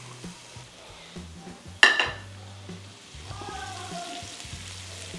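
Onions dropped into a hot frying pan: a sharp clatter and burst of sizzle, then a softer steady frying hiss as they settle, close and without talk.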